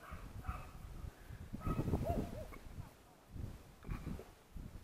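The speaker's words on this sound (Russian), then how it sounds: "Собаки не умолкают, зараза." Dogs barking nearby in an outdoor yard while fish kebabs are being prepared, with intermittent bark-like yelps and whimpers mixed with other animal noises and faint background sounds.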